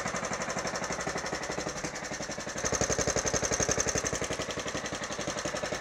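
A Black Deck STX38 Motorsports Edition lawn tractor engine, burning oil and leaking at the oil pump cover, idles steadily and loudly up close with a rapid, even chugging that grows slightly heavier partway through.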